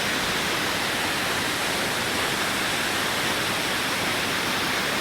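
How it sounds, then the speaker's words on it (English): Falls Creek Falls pours in a constant, dense roar of falling water, loud and unbroken with no other sounds. "we had heard about this waterfall, and we knew we had to come back and see it"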